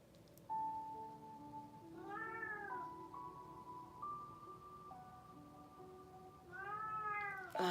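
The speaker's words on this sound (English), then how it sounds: "whenever my cat starts screaming like this" A domestic cat yowls in two drawn-out, rising-and-falling screams, one early and one at the end, with a steady high electronic tone humming underneath; no one speaks.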